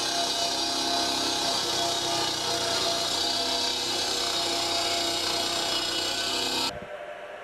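Wood being cut for the body of a komuz, a Kyrgyz stringed instrument, a continuous loud grinding saw buzz that stops abruptly near the end.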